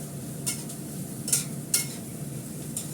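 Onion, green chili and egg fry lightly in a pan with a soft, steady sizzle, broken by several short scraping strokes of a utensil against the pan.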